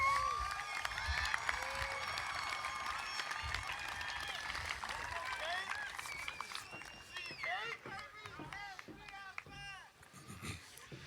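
Applause from the audience at a college commencement for graduates, soft and distant, with scattered clapping and crowd noise that thins toward the end while voices murmur underneath.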